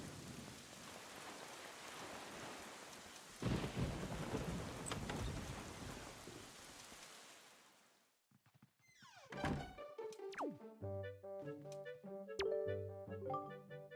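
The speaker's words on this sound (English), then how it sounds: "there's a terrible storm raging this evening" Thunderstorm and heavy rain in the video game Zelda Wind Waker HD: a dense, loud rain hiss with thunder rumbles that fades out. Melodic game music then takes over, with a further thunder clap partway through.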